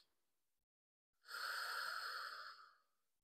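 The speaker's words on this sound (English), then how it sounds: "a long, deep inhale. And then when you get to the top of that inhale, you take another short inhale and then exhale." Breathing technique of a long deep inhale topped with a second short inhale, then a long exhale; a faint airy breath is followed by a sustained, fairly close whooshing exhale lasting over a second, with no talking.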